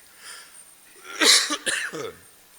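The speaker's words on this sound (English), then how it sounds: "I'm trying to think about how to not to cough at the same time" A person coughs during a spoken talk, a short throat-clearing rasp followed by two or three harsh close coughs in quick succession.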